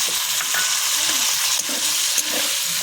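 A cauliflower curry with live tangra fish sizzles loudly and steadily in a pan, with a few brief sharper bursts that could be the splash of added water, and no voices.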